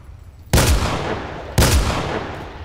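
Two loud, close gunshots about a second apart, each a sharp blast trailing into a booming decay, in S.T.A.L.K.E.R. Call of Chernobyl.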